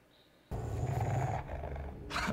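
A dog growls and roars in a movie scene, a loud, sustained rumbling snarl that starts abruptly and holds steady for about two seconds, ending in a harsher burst.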